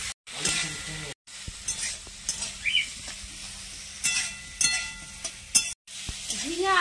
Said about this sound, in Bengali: ঝিঙে আলু ভালো করে ভেজে নিয়েছি